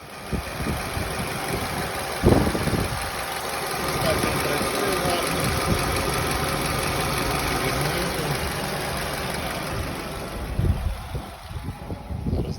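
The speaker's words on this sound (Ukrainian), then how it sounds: "І зараз вам продемонструю роботу двигуна після регулювання." A warm Nissan Rogue engine idling just after a valve adjustment, a steady close mechanical hum with a few brief knocks and handling noises.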